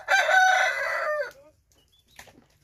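A rooster gives a single loud, close crow of just over a second, followed by quiet with a faint cluck from hens afterward.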